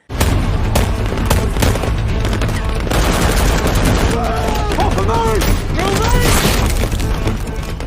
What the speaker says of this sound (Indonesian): Di bawah tembakan yang intens